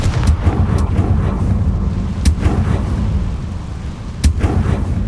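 In the video game Hogwarts Legacy, Confringo fire spell blasts go off as three sharp, deep booms spread over a few seconds, set against a constant heavy low rumble.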